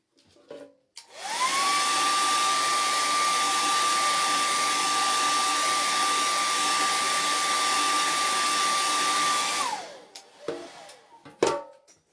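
Hair dryer blowing on a chalk transfer on a DIY board, spinning up into a loud, steady whine and rush that runs for about nine seconds before winding down, with a few handling knocks before and after.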